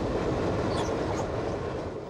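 Passenger train rolling through the countryside, a steady broadband rumble and rattle of cars on the rails, continuous and fairly close with no talking.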